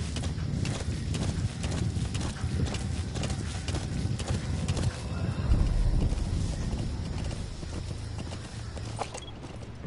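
Hooves of a pale horse ridden by Big Boss clip-clop steadily in a video game, a continuous loud walking rhythm with the animal's occasional snorting and faint game ambience.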